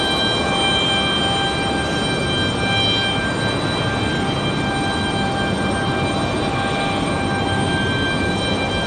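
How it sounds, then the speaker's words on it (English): A Frontier airliner's jet engines roar steadily on departure at Raleigh-Durham International Airport, loud and constant with a high whining tone running through the broadband rumble. "Frontier up next for departure"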